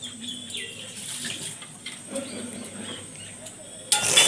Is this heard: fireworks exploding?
no